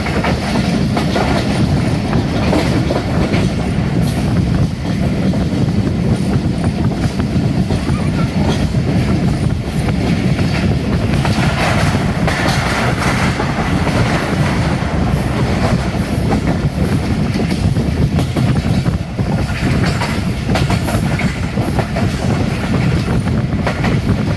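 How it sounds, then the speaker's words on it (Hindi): The 36 Down Sir Syed Express rushes through Shahdadpur railway station at high speed, heard as a loud, continuous roar and clatter of wheels on rails from a nearby stopped train. "रेलवे स्टेशन से गुजर रही है 36 डाउन।"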